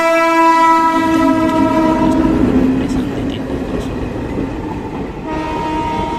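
A train horn sounds loud and sustained at close range at Krishnanagar Road station, then fades as the rumble of a moving train and crowd noise take over, with voices faintly underneath.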